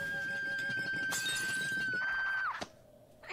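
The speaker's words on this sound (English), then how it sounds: "You might shatter my Princess Celestia commemorative plates!" Commemorative Princess Celestia plates shatter in a My Little Pony cartoon, a sudden crash of breaking china near the end, preceded by a sustained whistling tone and busy background sound.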